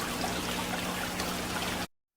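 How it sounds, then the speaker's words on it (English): Water drains from the ends of pipes into an aquaponics fish tank in a greenhouse, a steady close trickle and splash that runs evenly and then cuts off abruptly. "into the fish tank we can see the water draining out of the end of the pipes and creating a little bit of agitation"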